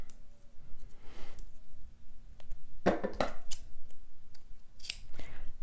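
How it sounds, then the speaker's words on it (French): Scissors snip a few times with crisp metallic clicks, a quick double cut in the middle and lighter snips around it, close by, cutting double-sided tape. "ça fait du bruit les ciseaux"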